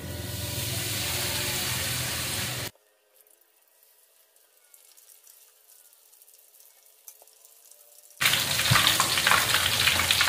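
Mung bean peyek crackers fry in hot oil as batter is ladled in, giving a loud, steady sizzle that drops away to near silence in the middle and then returns.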